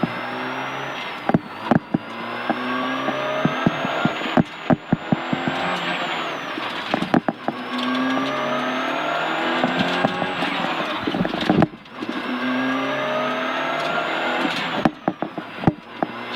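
A rally car on a French rally stage weaving to heat its tyres, with a loud, steady engine roar that rises and falls repeatedly, broken by sharp clunks and brief dips, heard close from inside the cabin without talk.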